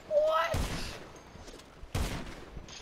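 Gunshots in GTA Online during a one-on-one match: two sharp, loud bursts of fire about a second and a half apart, with short speech before them.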